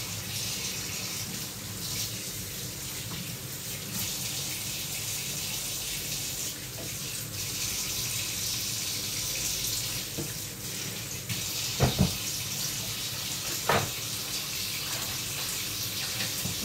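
Hot water runs steadily from a tap into a sink, a constant close splashing hiss lasting throughout, with a couple of brief knocks near the end and no talking.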